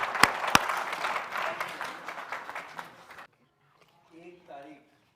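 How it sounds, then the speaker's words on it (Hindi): Audience applause at a Hindi poetry gathering: dense, loud clapping for about three seconds that stops abruptly, followed by a brief stretch of quiet talk. "एक बार जोरदार तालियां हो"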